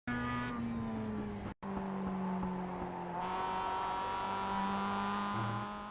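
A Mazda MX-5 race car laps the Okayama circuit in the iRacing video game, its engine droning steadily from close by with shifting pitch, a brief cut near the start, and light tire noise through the corners.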